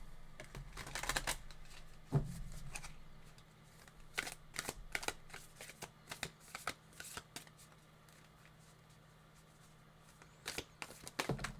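Tarot cards shuffled by hand, a run of soft riffling, flapping and tapping bursts that come in irregular clusters with short pauses, close but quiet, and no voice.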